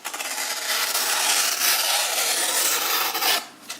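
A GEC #74 Heartland pocket knife with an autumn gold jig bone handle slicing through material, giving a steady, close rasping cut for about three seconds before it stops.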